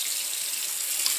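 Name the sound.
water filling a container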